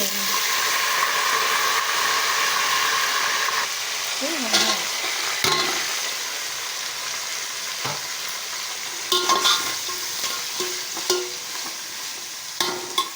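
Green chillies and onions sizzling steadily in hot oil in a pan, with bay leaf, for coconut ghee rice, as a spoon stirs them with scraping and knocking strokes; loud, close and continuous frying, with little talk.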